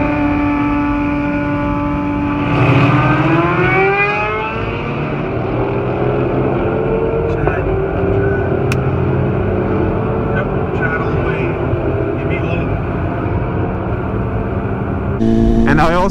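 A Kawasaki Ninja ZX6R 600 motorcycle races an AMG car, the engine roaring loudly and steadily as the revs sweep up and shift, a continuous near drone with road and wind noise throughout.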